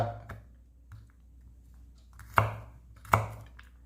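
A knife chops tomato into small pieces on a board, giving a few soft taps followed by two sharp, close knocks spaced under a second apart against a faint background hum.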